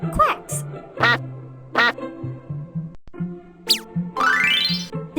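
A duck gives a string of loud, close, nasal quacks in uneven bursts, followed by rising squeaky sweeps near the end, with voice-like calls mixed in.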